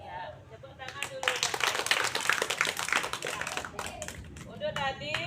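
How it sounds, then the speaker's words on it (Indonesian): Students in a school physical education class on floor gymnastics clap their hands together for a few seconds, a quick, moderately loud patter, with a teacher's voice speaking just before and after. "Ya, tepuk tangan dulu."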